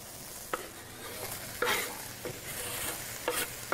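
Vegetables frying in a pan on a stovetop give a steady, moderate sizzle, with a few sharper stirring scrapes and clatters breaking through at intervals.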